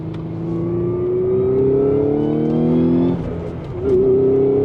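A 2016 Audi S5 with a manual gearbox and Stage 3 clutch accelerates hard through a curve, its engine droning loud and steady as revs climb, briefly dipping before surging again, heard from inside the cabin.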